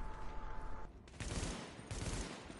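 Bursts of gunfire in The Division, shots aimed at a car's fuel tank, arrive as dense, loud volleys in two or three clusters with no talk.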